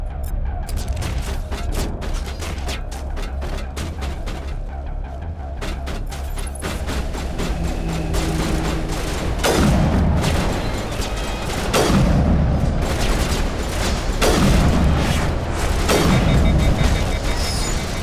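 Grenade blasts and gunfire from the video game Mass Effect: rapid cracking shots at first, then several heavy booming explosions spaced a few seconds apart, loud and close throughout.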